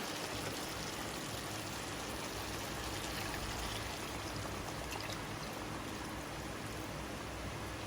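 A steady, continuous pour of mostly water into a pot of chicken stew, a dense rushing splash that holds evenly throughout.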